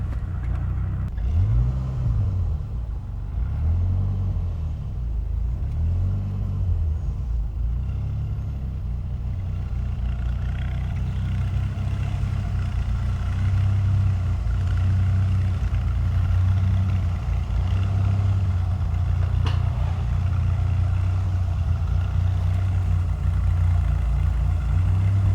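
A 1992 Dodge Viper RT/10 with a V10 engine runs steadily and close by, its rumble swelling and falling through a few revs before settling into a constant drone.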